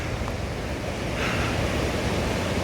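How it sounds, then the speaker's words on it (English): Small, calm waves wash gently on the South African west coast as the tide comes in, a soft continuous hiss of surf with faint wind and no distinct breakers. "it's pretty calm, waves are tiny"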